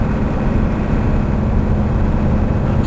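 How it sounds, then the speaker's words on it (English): A truck engine labors up a hill with a steady low rumble and a slightly rattly edge, loud and continuous throughout with no talking. "The engine sounds a little rattly."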